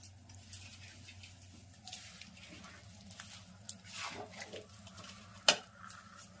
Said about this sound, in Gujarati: આ રીતે મિક્સ કરવાનું, ચીટાળી દેવાનું